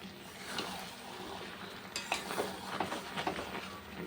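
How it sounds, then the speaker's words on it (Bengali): Goat head curry sautéed and stirred in a pan, a faint sizzle under quiet scraping with a few light clinks of the spoon against metal. "অনেকক্ষণ ধরেই কষাচ্ছি"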